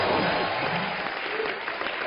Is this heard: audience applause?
yes